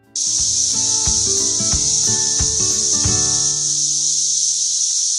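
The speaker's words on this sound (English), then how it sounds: "The animal that makes this sound is the cicada." A loud, constant high buzzing drone of a cicada runs unbroken, with a few low tones and thuds sounding beneath it near the start.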